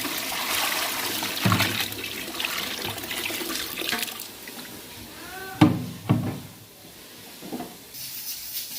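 Water poured into a pot of browned chicken and peas for pulao, a splashing, gushing rush with sizzling bursts and clanks of a utensil near the end, close and fairly loud.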